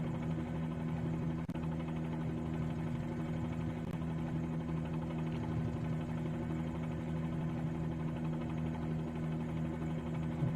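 A Bell 47G helicopter's piston engine and rotor in Microsoft Flight Simulator 2020 drone in a constant, steady low hum with even vibration, with no talking throughout.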